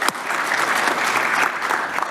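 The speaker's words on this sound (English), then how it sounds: "Let's give him a round of applause." Warm, steady applause from a conference audience, a sustained wash of clapping that holds at an even level for the whole stretch.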